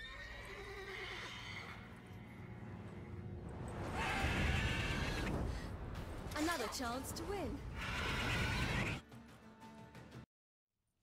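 A mare neighs and whinnies loudly in The Witcher 3, her wavering cries rising over hoofbeats and a lively crowd, with voices speaking before and around the call.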